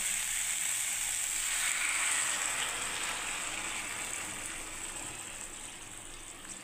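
Hot water goes into a sizzling pan of sukto, a Bengali vegetable dish, producing a loud, steady hiss and bubbling close by that slowly eases off, with no voices.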